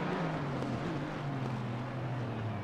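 A Ford Mustang race car's engine drones steadily at high revs during a race at Misano, a continuous loud mechanical roar with a sustained low tone throughout.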